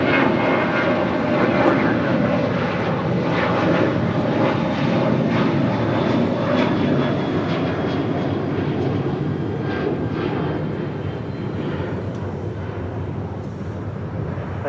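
Jet airplane taking off from runway 25 right at Los Angeles International Airport, a loud, steady roar of engines with a broad rushing texture that holds for many seconds and eases slightly toward the end.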